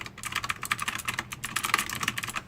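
Fast continuous typing on a Rosewill Neon K85 mechanical RGB gaming keyboard, dense crisp clacky keystrokes in a steady rapid rhythm, close and clear with no talking.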